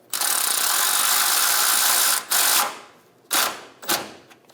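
A ratchet cranks a bolt through a ground strap while a fuel tank is replaced on a 2003-2025 Chevrolet Express 2500 van, sounding as one long steady clicking run and then a few shorter bursts, close and clear.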